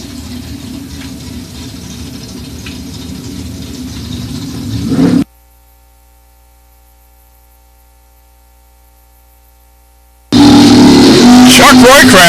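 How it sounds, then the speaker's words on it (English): A 1972 Chevrolet Chevelle drag car engine at a door car drag racing shootout rumbles under an announcer's voice, builds, drops to near silence, then returns as a loud, close, sustained roar. "Bob Woodwine, the Chevelle, 72 Chevelle."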